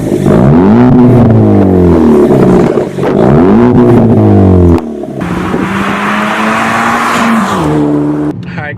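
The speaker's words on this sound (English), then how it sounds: "features a 4-cylinder turbo engine, but it's actually pretty fast" A 2016 Ford Focus ST's 2.0-liter turbocharged four-cylinder engine revs hard while driving, loud and close, climbing and falling through repeated rising pulls with brief gear-change dips.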